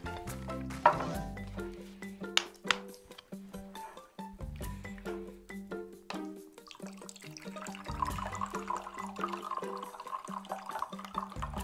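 Water is poured into a drinking glass, filling it halfway, with irregular splashing and trickling sounds that rise and fade over several seconds, fairly soft and close up.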